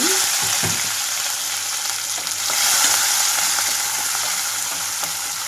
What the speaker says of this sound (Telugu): కట్ చేసి పెట్టుకున్న ఉల్లిపాయలు పచ్చిమిరపకాయలు వచ్చి